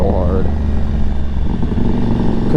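Stage 3 tuned Aprilia Tuareg motorcycle engine revving loudly and close, a sustained raw roar with a brief rising pitch at the start before settling into a steady throbbing drone.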